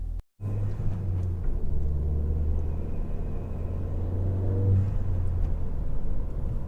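Ford Fiesta ST Mk7 fitted with a pod filter and J1 adapter, driving on the road with a steady, loud engine and road rumble throughout, heard from inside the car.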